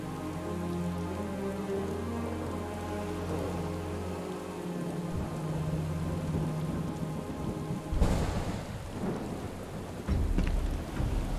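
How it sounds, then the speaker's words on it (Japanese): Heavy rain and thunder in Final Fantasy VII Rebirth: a dense, continuous downpour over a low hum, then loud rumbling thunder crashes near the end, with no speech. "すごい雨だな。"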